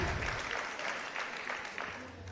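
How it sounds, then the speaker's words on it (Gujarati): Audience applause at a talk, a steady broadband patter of many hands clapping at moderate distance, continuing throughout with no voices over it. "તમારા પોતાના માટે તાળીઓ પાડો એકવાર"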